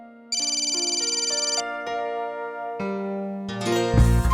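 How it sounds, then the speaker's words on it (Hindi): A phone ringtone plays a bright repeating electronic melody, loud and close, and keeps ringing while the call goes unanswered, with no one speaking. "फोन क्यों नहीं उठा रहा?"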